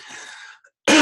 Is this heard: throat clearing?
yes